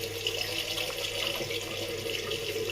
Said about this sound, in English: Now I'm rinsing it off completely